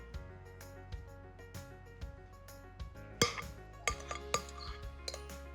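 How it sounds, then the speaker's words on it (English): A utensil stirs cheese into an artichoke bread pudding in a pan, making scattered scraping and clinking knocks against the metal, some of them sharp, with a low hum running underneath. "Let me just mix this all together."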